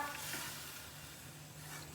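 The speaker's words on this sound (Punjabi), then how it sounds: "ਗੜੇ ਬੜੀਆਂ ਦੀ ਸਬਜ਼ੀ ਨੂੰ ਤੜਕਾ" Hot oil sizzles and crackles steadily as spices are tempered for a sun-dried lentil dumpling curry, a close, hissing fry that stays fairly even throughout with no voices.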